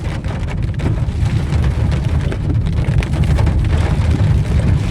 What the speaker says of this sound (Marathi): भरपूर पाऊस बघा